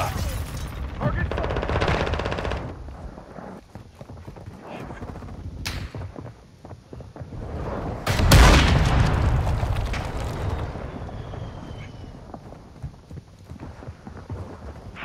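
Call of Duty battle with a grenade blast and rapid gunfire, a dense mix of shots and rumbling booms, with one heavy explosion standing out midway amid ongoing combat noise.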